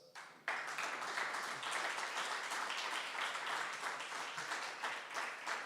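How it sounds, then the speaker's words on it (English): A round of applause from the audience at an international policy session, starting abruptly after a brief moment and carrying on as a steady, fairly distant wash of clapping to the end. "can you please give me a round of applause?"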